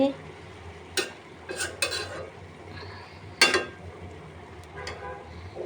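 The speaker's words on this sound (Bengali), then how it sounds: "লাল শাকটা একটু নেড়ে দিই" Red amaranth greens are stirred in a cooking pan. A spatula makes several sharp scraping and clinking strokes over a faint low sizzle, with pauses between them and no voices.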